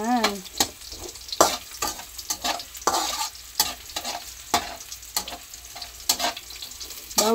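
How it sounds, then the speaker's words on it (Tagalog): Garlic and ginger sautéing for pakbet, a Filipino vegetable dish, with a crackling sizzle and a quick, regular series of spatula strokes scraping the pan, close up. "Gigisa ko muna tong ano guys. Bawang and luya."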